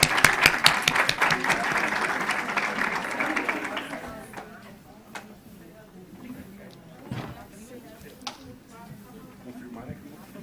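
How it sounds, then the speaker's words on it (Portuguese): A forum audience at a São Paulo legislative assembly event applauds Andrea Werner. The clapping is loud and busy for about four seconds, then thins to scattered claps and room murmur with some talk. "uma salva de palmas também"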